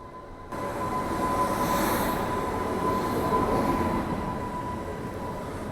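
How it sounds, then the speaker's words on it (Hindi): Lucknow Tejas Express overtaking on the adjacent track, heard from aboard the Suhaildev Express: a steady, loud roar of passing coaches and rolling wheels with faint squeal, sustained throughout. "ये तो निकल रही है तेजस ओवरटेक करके अपने को"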